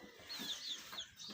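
Desi chickens, chicks of a fighting bloodline in rural Sindh, Pakistan, give a few short, fairly faint clucks and chirps close by over a quiet background, with no talk.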